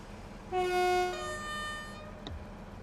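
A train horn sounds in Train Sim World 3 on the Midland Main Line, one sustained two-tone blast heard from outside, over a steady rumble of rail noise.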